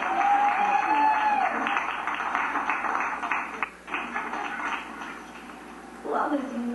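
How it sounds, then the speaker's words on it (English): An audience at a mixer claps in a warm burst of applause. The clapping is dense at first, dips briefly in the middle and swells again, with a voice speaking over it. "One more round of applause"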